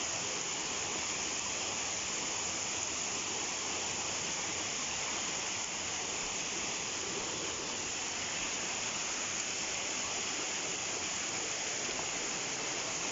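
Steady, full roar of falling water at Sta. Lucia Falls, a dense unbroken rush heard up close and alone with no voices, holding an even level throughout.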